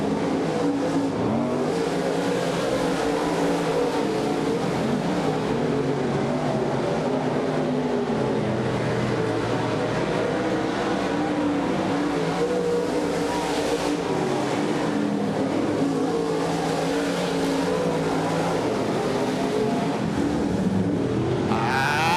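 Modified race cars with Chevy engines in rocket chassis roar around a Wisconsin dirt track during a feature's final lap, loud sustained engine drone with rising and falling revs as cars pass, continuous throughout.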